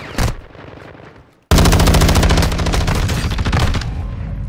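Sustained automatic fire from a Tempus Razorback assault rifle in the video game Warzone 2, a loud, rapid, continuous burst following a brief earlier shot and a moment of quiet.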